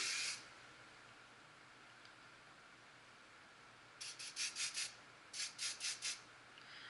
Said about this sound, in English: Then you're going to go ahead and spray your volume.